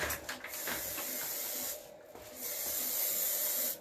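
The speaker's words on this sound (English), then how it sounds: "I'm going to go ahead and hit it with a little hairspray" Hairspray hisses onto styled hair in short aerosol bursts: several quick spurts, then a longer steady spray, close and fairly loud with no talking.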